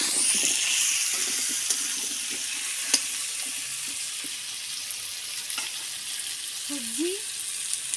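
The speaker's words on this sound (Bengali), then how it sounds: "এবার এর সঙ্গে আমি কুমড়োগুলো ভালো করে ভেজে নেব।" Pumpkin pieces frying in a pan alongside potatoes for a pumpkin, pointed gourd and potato curry, giving a steady, moderate sizzle that runs throughout with a few soft clinks of stirring.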